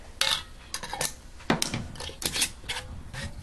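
A lid set onto a glass canning jar of split pea soup and the jar lowered into a pressure canner, a quick run of close glass and metal clinks, taps and clatters in an otherwise quiet kitchen.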